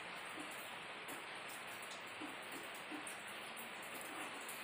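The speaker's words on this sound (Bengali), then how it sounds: "আবার এখন সেই যে গুড়ি গুড়ি অনবরত বৃষ্টি পড়ছে" Continuous light drizzle falling during the monsoon, a faint steady hiss of rain with soft scattered drops, no voices.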